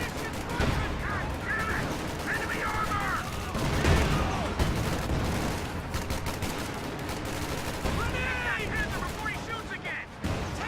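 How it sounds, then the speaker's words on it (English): Sustained video-game gunfire aimed at a Panther tank, dense overlapping shots and bursts forming a continuous loud barrage with metallic impacts throughout. "Everything shooting at that Panther."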